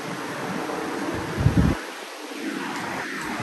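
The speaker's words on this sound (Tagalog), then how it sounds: "Lakas ng hangin." Broadband wind blowing steadily outdoors, with a louder low gust buffeting the microphone briefly near the middle.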